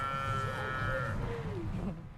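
Cows mooing on a northern Indiana farm in wet wintry weather, a long drawn-out low moo close by with a second bellow overlapping, steady background noise throughout.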